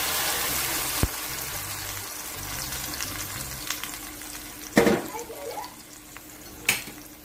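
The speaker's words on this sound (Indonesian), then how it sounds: "lalu kita kasih minyak goreng sedikit ya teman-teman, untuk menumis bumbu tadi ya teman-teman" Spice paste blended with dried and fresh shrimp frying in a little cooking oil, giving a soft continuous sizzle broken by a few sharp clinks and stirring knocks.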